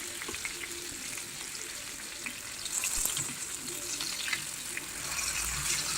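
Mullet fish fries in a pan with curry leaves, giving a continuous, fairly quiet crackling sizzle with small pops and a slight watery hiss, and no voices.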